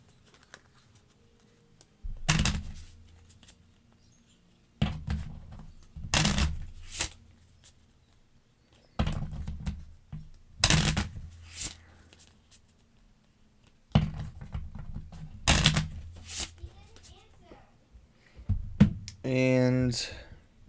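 Marvel Champions playing cards are shuffled into a deck in about six short, close riffling bursts separated by quiet gaps, with a brief voice near the end.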